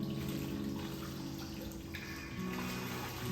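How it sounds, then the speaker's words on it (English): A mop is plunged into a bucket of soapy water during a construction cleanup, giving a steady wet sloshing and trickling that stays close and fairly even for a few seconds. "We're gonna dip in our mop, make everything nice and soapy."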